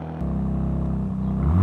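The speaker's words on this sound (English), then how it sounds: "That is a cold start, so it'll drop in RPM and get a little deeper too" A Ram RHO truck with an MRT Extreme mid pipe exhaust idling after a cold start, a deep steady rumble that swells slightly louder toward the end, close by and alone.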